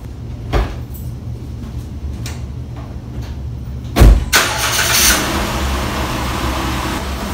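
A Jeep Wrangler sits in a garage as a few door clunks are followed by the engine cranking and catching, then settling into a steady idle.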